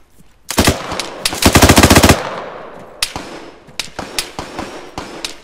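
Automatic and single gunshots in the military video game Arma 3: a loud sustained burst of rapid fire, then scattered sharp shots trailing off at varying distances, with no talk over it.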